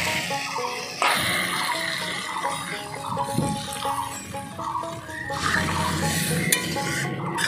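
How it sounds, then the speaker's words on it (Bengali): Liquid is poured into a hot pan of curry for a tangra fish and bottle gourd dish, bringing a burst of sizzling and bubbling that is then stirred with clinking utensil sounds, close and loud. "এবার ঝোল দিয়ে দিই"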